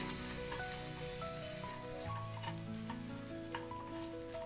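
Dried bombil (Bombay duck) fish roasting in a hot pan, a close, steady crackling sizzle with stirring throughout, under a faint background tone.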